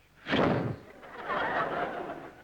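A voice makes a breathy, hissing burst imitating a dash, followed by softer airy noise.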